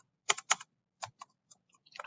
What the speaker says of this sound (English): I'm going to have to use that arrow button on my keyboard to move down